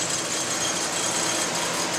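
A 2008 Carrier Comfort Series 2-ton heat pump runs in heat mode outdoors on a chilly day, giving a steady, close mechanical hum and fan rush with no voices.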